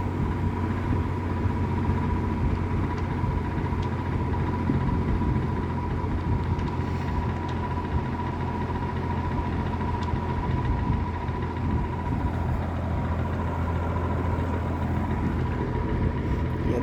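A W. W. Welch Air-Flight 20-inch box fan runs on medium speed, giving a steady, even whoosh of moving air with a low motor hum underneath. The sound is constant and close, with no voices.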